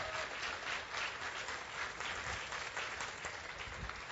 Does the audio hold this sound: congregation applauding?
yes